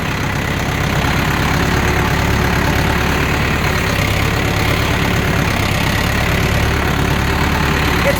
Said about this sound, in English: I might turn the tractor off so you can hear me better.